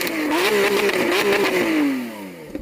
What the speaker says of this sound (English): So we're going to rev up the engines.